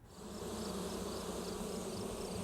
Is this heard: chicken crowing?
no